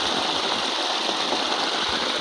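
Water gushing from a 5 HP solar-powered pump on a farm, a loud, constant roaring rush that does not change through the short stretch. No voices.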